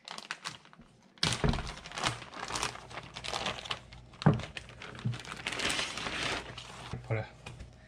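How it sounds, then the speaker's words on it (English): Crinkling, rustling plastic bag handled close up, with scattered thumps and knocks as a waterproof monitor screen is unwrapped. "You undo the plastic bag."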